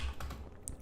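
Soft, quiet keystrokes tap out a command on a computer keyboard in a few light, irregular clicks.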